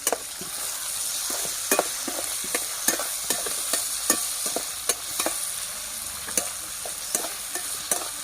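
Onions and salt frying in a pan, giving a soft steady sizzle broken by regular sharp scrapes and taps of a stirring spoon, close and moderately quiet.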